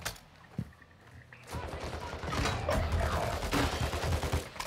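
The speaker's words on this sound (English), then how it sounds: "Oh, I'm getting shot at." Rapid bursts of gunfire from a military shooter video game, with mortar and sniper fire, erupt after a quieter opening and keep up as dense, overlapping volleys of fairly close shots.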